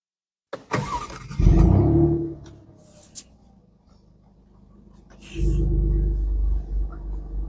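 An Alfa Romeo Stelvio Quadrifoglio Super Sport 2024 starts after a click, its engine catching with a loud flare, then settling to a rumbling idle before a second deeper burst of revving, heard up close.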